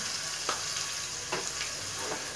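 Green chillies and asafoetida frying in oil for a dal, a faint, soft sizzle with three or four gentle stirring scrapes.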